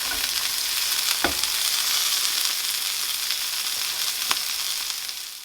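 A burger patty with melting cheese and buns frying on a hot pan, giving a steady, loud sizzle that holds throughout with a couple of brief sharper crackles.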